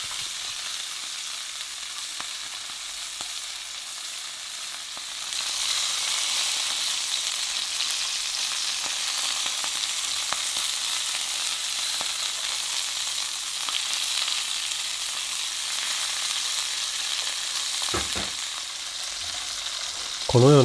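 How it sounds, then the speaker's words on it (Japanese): A mallard duck sizzles steadily as it sears in a hot pan and is turned to brown on all sides. The frying grows louder after a few seconds and continues unbroken, with a few soft knocks near the end. "表面全体がきっちり色がつくように少しずつ鴨を動かしながら全体的に色がつくように焼きます。"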